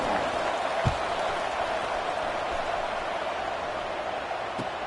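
A football stadium crowd just before kickoff roars in a dense, steady wash of cheering and applause that fills the whole stretch, sounding broad and somewhat distant with no single voice standing out.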